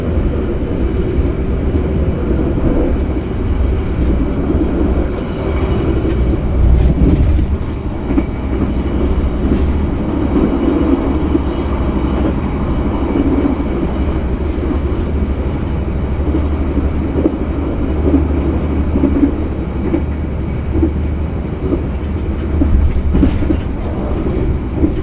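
A passenger train rumbles steadily along the rails, a loud continuous roar with faint rhythmic clatter, heard from on board the Pandalungan train from Cepu, Indonesia, for a long stretch.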